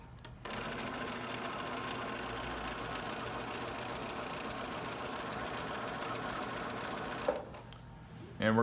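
A sewing machine stitches an applique in a steady, close whir that starts after a brief pause, runs for about seven seconds, then stops with a small clunk before faint noise follows.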